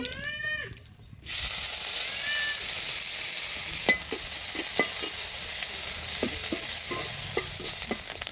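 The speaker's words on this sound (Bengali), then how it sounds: "সকালে মাছ ভাজার কিছু তেল ছিল সেই তেলেই আমি সুটকিটা ভেজে নেব" Loitta dried fish frying in oil left over from frying fish earlier, a steady close sizzle with scattered sharp pops and crackles after a brief quieter opening.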